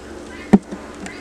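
Honeybees buzz close by during a fall hive inspection, one sharp buzzing pass standing out against a low hum of the colony.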